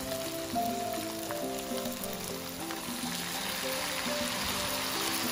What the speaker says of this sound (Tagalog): Pag natunaw na yung butter, ilagay natin yung ating calamansi or lemon juice.